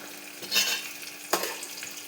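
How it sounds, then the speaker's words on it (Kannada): Peas stirred and frying in a pan on a stove, a soft crackling sizzle with two louder bursts of scraping and sputter, close and alone without talk. "ವಟಾಣಿ ಹಾಕಿ ಅದು ಫ್ರೈ ಆಗಲಿ"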